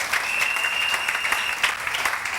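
A church congregation applauding and cheering in acclaim of the word of the Lord during a sermon, dense steady clapping that fills the room with a sustained high whistle running through it.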